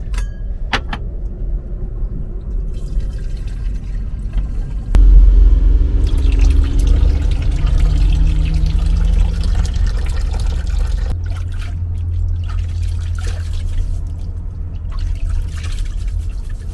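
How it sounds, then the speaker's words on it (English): Water poured to fill a container during overland camping, a gurgling pour with a rising pitch as it fills, over a low engine-like rumble and some clinking. "So I'm just going to fill this with a little bit of water"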